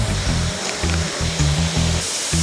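Waterfall in Ipoema, Minas Gerais, a constant loud rush of falling water with heavy low rumble and broadband hiss, heard close and without talk.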